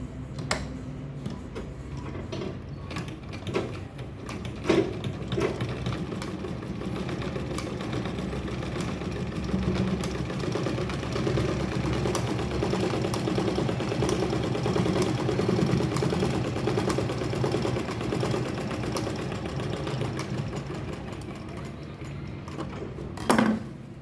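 A sewing machine stitching a bag panel, its needle clattering in a fast steady rhythm for the whole stretch, close and moderately loud, with a few sharper knocks near the start and end and no talking.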